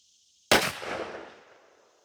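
A single loud, close shotgun blast from a Mossberg 500 .410 firing a Kinetic Gunwerks 3-inch 7/8 oz #9 TSS shell through a Trulock turkey choke. The sharp report is followed by a decaying echo tail.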